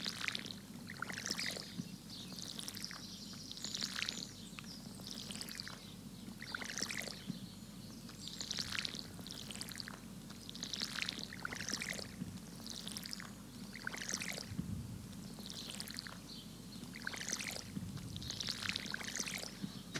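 A watering can sprinkles crops in Stardew Valley, a soft, repeated pouring and splashing in a steady rhythm over light background music, with no talking.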